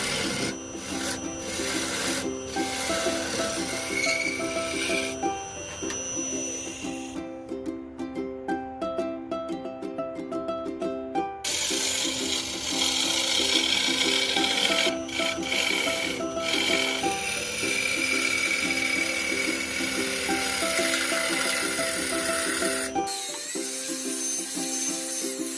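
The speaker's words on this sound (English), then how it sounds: "Hollowing is the process in which we hollow out the wood from inside to give a proper shape from inside." A wooden log vase spins on a lathe as a coring jig hollows it, producing a sustained rasping, scraping cut over a steady tonal machine hum, close and continuous with brief pauses.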